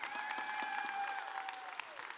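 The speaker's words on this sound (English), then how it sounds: "Let's give a round of applause for Jessica and the kids." An audience gives a round of applause for Jessica and the kids: a fairly faint, continuous patter of clapping heard from a distance, with a steady sustained tone over it.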